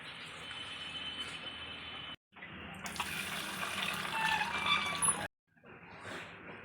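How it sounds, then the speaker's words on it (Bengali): Tap water runs over raw chicken in a sink as it is rinsed, a steady splashing flow that stops abruptly twice and then starts again, with no talking. "মাংসটা ঢেলে আমি ধুয়ে নিই।"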